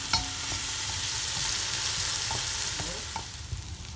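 Tomato frying in a pan for arròs negre, a steady crackling sizzle with occasional sharp pops and stirring scrapes, fairly close and continuous without speech.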